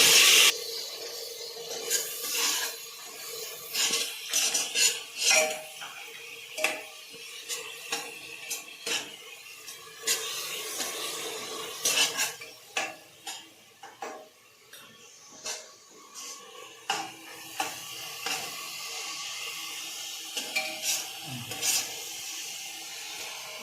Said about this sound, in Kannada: ಸ್ವಲ್ಪ ಹಸಿ ಸ್ಮೆಲ್ಲೆಲ್ಲ ಹೋಗೋಕ್ಕೆ ಫ್ರೈ ಮಾಡಿ ಟೊಮೊಟೊ ಹಾಕಿ